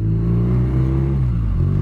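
A 2017 BMW R nineT flat-twin motorcycle engine runs with a loud, close, deep throbbing rumble whose pitch dips and rises slightly as it is revved, with no voices.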